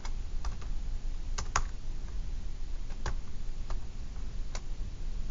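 Typing on a computer keyboard: sparse, irregular key clicks, some in quick pairs, spread over a steady hiss with no talking.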